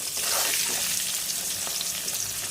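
Salted potato pieces fry in hot oil with a dense, even crackling sizzle that stays loud and constant from start to finish, with no talking.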